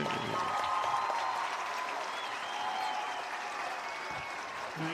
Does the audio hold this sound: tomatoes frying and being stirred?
no